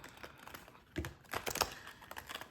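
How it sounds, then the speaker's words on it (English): A deck of reading cards being shuffled: a brief burst of papery riffling and soft flicks, close and fairly quiet, with no talking. "Shuffling these cards."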